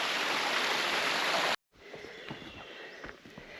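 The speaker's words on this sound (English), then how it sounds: "So it looks like we're going to be scrambling up this waterfall section next." Waterfall on the Labyrinth track in Tasmania, a steady broadband rush of falling water that cuts out abruptly, then returns quieter and more distant with small splashes and rustling.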